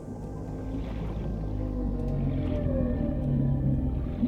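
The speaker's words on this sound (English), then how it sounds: "More what sounds like whale noise." Whale calls in the underwater game Subnautica, long low moaning tones that rise and fall over a deep watery rumble, fairly faint and with no voices.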